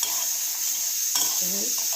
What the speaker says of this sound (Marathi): आपण भाजून घेत आहोत काही असे तडतड वाजायला लागलेत